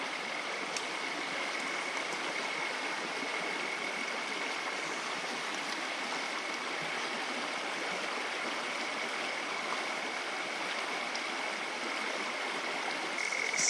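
A river in the Australian bush flows with a constant broadband rush and gurgle, steady and close, with no voices.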